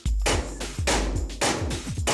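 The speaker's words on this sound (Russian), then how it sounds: "Вот сейчас я возьму вот этот болт и забью прям резьбу молотком." A hammer strikes a bolt to drive it into a thread during car brake repair work. Four sharp metallic blows land in an uneven rhythm, close and loud, with short ringing decays between them.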